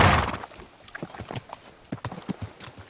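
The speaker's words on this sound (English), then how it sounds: "My, what a beautiful horse." Horse hooves clip-clopping in the medieval game Kingdom Come: Deliverance 2, a close, steady walking rhythm of distinct hoofbeats with a brief rush of noise at the start.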